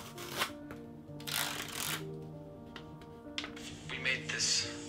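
A stylus scratches and taps across an iPad fitted with a Paperlike screen protector, giving a papery rasp in short strokes and bursts, close and fairly faint, while a person speaks over it.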